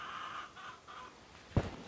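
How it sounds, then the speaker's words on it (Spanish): A hen clucks in a quiet rural village setting, a few faint, soft repeated calls, followed by a sudden close knock or bump. "La gallina."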